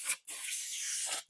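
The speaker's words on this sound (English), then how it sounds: "a can of compressed air, that'll work too. Just gonna blow it out." A can of compressed air blasts wax out of a pinball machine in two bursts, a short puff followed by a longer steady hiss, close and fairly loud.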